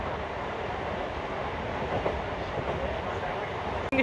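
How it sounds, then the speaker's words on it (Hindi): A Janshatabdi Express train runs past in Bhilai at sunset, its loud, close, steady rumble and rhythmic wheel clatter filling the whole stretch. "बस आ रही है जनशताब्दी एक्सप्रेस।"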